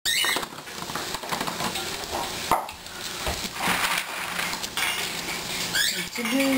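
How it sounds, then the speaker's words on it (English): Dishes being washed, with plates, pots and cutlery clattering and clinking in irregular bursts over running background noise, close and moderately loud. "Doing the dishes."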